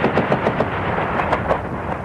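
Iraqi army gunfire during a retreat, a rapid string of sharp cracking shots in uneven bursts, moderately distant and heard alone without talk.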